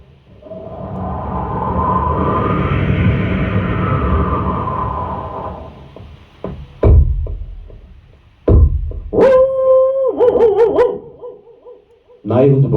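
A man on stage at a voice illusion show imitates a dog barking, first with a long swelling growl-like rumble, then a run of loud sharp barks and yips close to the microphone.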